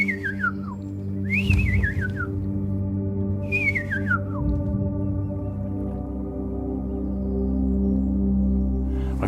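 A man whistles to call birds on a floating island, giving three separate descending whistled phrases spaced a couple of seconds apart over a constant low engine-like drone.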